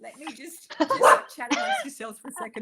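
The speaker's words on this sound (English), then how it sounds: "okay, that's my dog." A pet dog barks and yips at home during a conversation, with short sharp calls mixed in with and partly under people speaking nearby.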